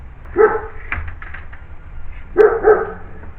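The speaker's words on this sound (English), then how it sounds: "a pile of neighbors' dogs barking at you constantly the minute you step outside" Neighbors' dogs bark outdoors in a yard, two sharp clusters of barks with softer yips between them, moderately close over a low background hum.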